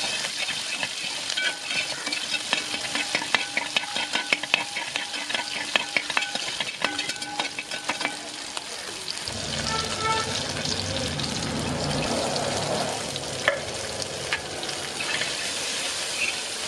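Onion and garlic sautéing in a pan for a Kerala-style sadya sambar, with a steady sizzle and scraping stir strokes, and a louder, denser frying hiss in the second half.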